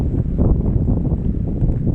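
Strong outdoor wind on a hiking trip roars steadily across the microphone, a loud continuous buffeting rumble with no speech.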